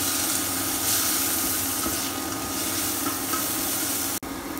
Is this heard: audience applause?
no